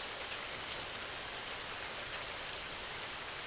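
Steady rain falling on a field of tall wheat, an even soft hiss with scattered faint drops, quiet and unbroken throughout, with no voices.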